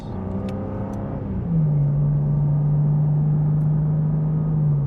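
A 700hp BMW G87 M2 in its comfort modes cruises down a road, a steady low engine drone that settles into an even hum after a brief shift, with no talking.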